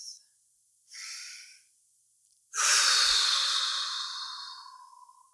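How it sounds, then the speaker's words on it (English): A person draws a short breath and then takes one long, deep exhale during a tapping exercise. It is close and airy, set between quiet pauses. "Stop, take a deep breath."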